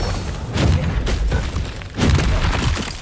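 Two deep, booming blasts about a second and a half apart, each with a rumbling low thud, cast as Confringo fire-spell explosions in the Hogwarts Legacy video game.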